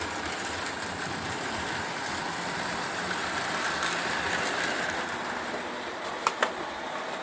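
A Lionel Docksider 8700 Rock Island 0-4-0 toy switcher locomotive running, giving a steady whirring motor drone with a continuous rolling rumble, even and close, with two brief clicks near the end and no speech.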